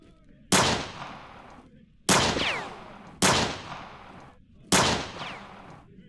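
Four sharp gunshots in a Metal Gear Solid radio drama, each a loud crack with a decaying, echoing tail, spaced about a second apart with brief quiet gaps between them.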